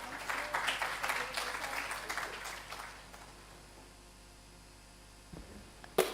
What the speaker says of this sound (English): a bigger round of applause for Professor Murugesan